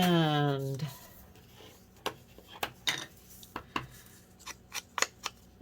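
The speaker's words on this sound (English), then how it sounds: "I'm going to cut this down to 8 inches tall" Scissors cutting down a paper journal page, a series of crisp snips at an uneven rhythm, close by, following a brief voiced tone at the start.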